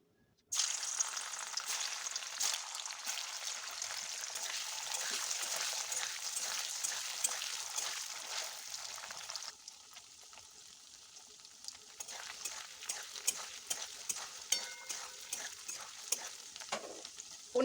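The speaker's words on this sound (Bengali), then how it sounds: "প্রথমে আমি হালকা করে পনিরটা ভেজে নিচ্ছি" Paneer frying lightly in oil in a wok gives a steady, close sizzle with frequent stirring scrapes and clicks; it turns quieter but keeps crackling midway through.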